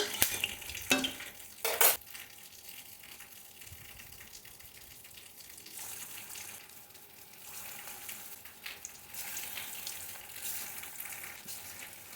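Prawn and jackfruit koftas sizzle and crackle in hot oil in a wok, with a couple of sharp clatters from stirring near the start, then a steady frying hiss.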